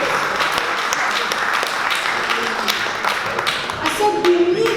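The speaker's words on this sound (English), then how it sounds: "Let's give him a round of applause." Audience applause at a BME empowerment summit, a steady wash of many hands clapping across the whole stretch, moderately loud, with a few voices calling out near the end.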